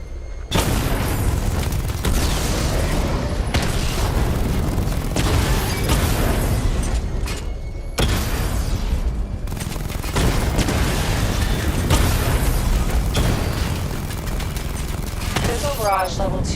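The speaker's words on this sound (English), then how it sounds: "Charge the missile barrage to level 2 to destroy up to 4 targets at once." Booming missile barrage explosions from Batman: Arkham City gameplay, a dense, loud, continuous run of blasts and bursts with rumbling low end lasting throughout, with a brief break near the middle.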